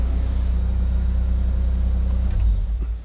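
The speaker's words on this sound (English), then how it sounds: "This exhaust sounds so much better, and it just sounds so much more solid in the car" A car's new exhaust system gives a steady, close, loud low rumble at idle, with a slight swell near the end and no talking over it.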